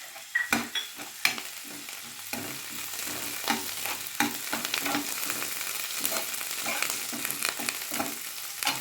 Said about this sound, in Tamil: கருவேப்பிலையும் பொரிஞ்சிருச்சு.